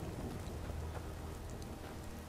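Rain falling in the Skyrim video game, a steady faint hiss of rainfall with soft patter, continuous and even, with no voices.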